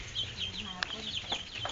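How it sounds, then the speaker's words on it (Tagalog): A chicken clucks in short bursts on a Filipino household visit, with a sharp squawk near the middle, set against low background murmur and room noise. "Ito na po yung manok nakakatayin na pong ulam ni Job."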